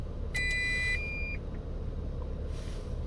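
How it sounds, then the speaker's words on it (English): A single short electronic beep from a Toyota Tacoma TRD Pro, clear and fairly loud, followed by a fainter high tone amid low engine rumble and background noise. "if we turn it back on, you hear the beep and it'll keep saying it's not available."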